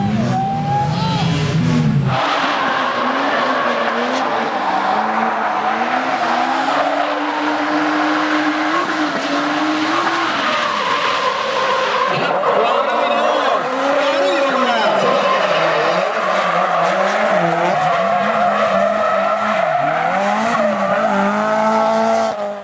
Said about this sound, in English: When it comes to drifting, this car is set up to slide around corners.